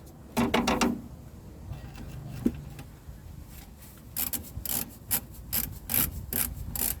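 Suspension bolts on a 2010 Toyota Corolla 1.8 are tightened with a wrench during a rear disc brake conversion. Soft scraping and rubbing come first, then a run of sharp, rapid ratcheting clicks up close, with no talking.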